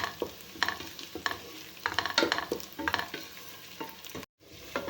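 Onion and garlic sautéing in a pan over low heat, a soft continuous sizzle broken by repeated close scraping strokes of a spatula, no talking.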